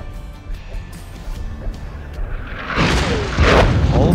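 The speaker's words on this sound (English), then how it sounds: "Just ahead, you'll see the bombs blowing up." Artillery shells exploding on a distant target, a series of heavy booms that swell in the latter half, rumbling and far off.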